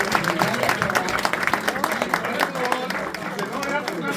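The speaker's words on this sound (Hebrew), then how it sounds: "מחיאות כפיים" An audience at a cultural Shabbat event in Jerusalem breaks into steady, sustained applause, a dense patter of many hands clapping that continues at an even level throughout, with some crowd murmur mixed in.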